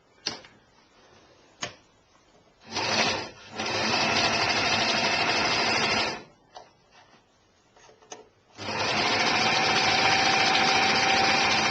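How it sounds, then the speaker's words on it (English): An overlocker runs in bursts, stitching a zigzag seam and trimming fabric edges for a maxi dress, with close, fast whirring runs separated by pauses and small clicks. "so I'm going to do zigzagging on my overlocker."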